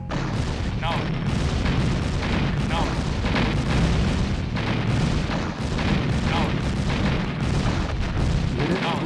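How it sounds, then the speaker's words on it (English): V2 rocket launcher explosions in Command & Conquer: Red Alert (1996) roll on as a dense, continuous battlefield din of heavy booms and rumbling blasts, loud and unbroken throughout. "I think the V2 launcher is like blowing up a village or something."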